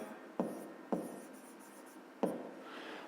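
A pen scratches across paper in short strokes while someone writes out a fifth-grade math exercise, with three sharper taps standing out against the soft, quiet scribbling.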